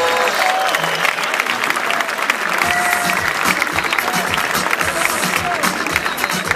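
Loud, continuous applause from a crowd greeting representatives of the Italian national rugby team at a jersey presentation, with voices mixed into the clapping.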